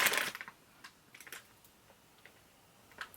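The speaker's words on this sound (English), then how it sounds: "that noise you heard was my makeup wipes" Plastic packaging of Walmart makeup wipes crinkles and clicks close by, a loud burst at the start followed by scattered soft rustles and taps.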